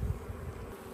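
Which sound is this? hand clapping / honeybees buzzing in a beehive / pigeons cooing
honeybees buzzing in a beehive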